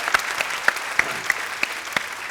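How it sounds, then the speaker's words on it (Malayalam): A studio audience at a Malayalam comedy television show claps after a song, a thin, scattered applause with sharp individual claps standing out at a moderate distance. "കയ്യടി കൊടുത്ത്."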